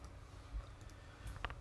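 A computer keyboard is tapped in a few quiet, scattered keystrokes, with sharp small clicks spaced irregularly and a brief cluster near the end, against low room hum.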